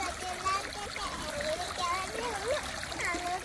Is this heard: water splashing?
yes